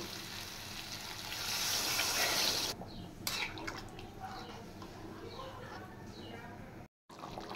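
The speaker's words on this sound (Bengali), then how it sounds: "এবার পরিমাণ মতো জল দিয়ে দেব।" Water is poured into a pan of potato and soybean curry, making a soft, close hissing splash for a couple of seconds before quieter simmering and faint clinks follow.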